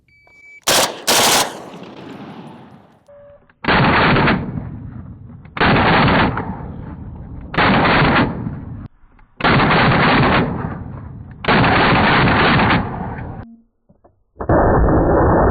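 An HK G3 machine gun fires six loud, sharp bursts of automatic fire at a shooting range, each lasting about a second, separated by brief pauses.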